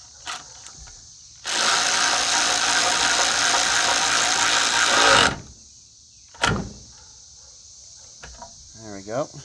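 A ratchet with an extension bar and 1/2 inch socket works on a Murray 20-inch push mower, giving a long, loud stretch of rapid ratcheting, then a pause followed by a few shorter clicks and handling noises nearby.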